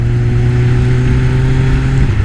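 A 2021 Kawasaki Ninja 1000 SX fitted with a full Akrapovic exhaust and no catalytic converter idles loud and close, a steady deep engine drone with a slight dip in pitch near the end.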